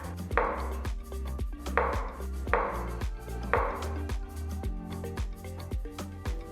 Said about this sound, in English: Chop the rich gourd into small pieces and keep them in another bowl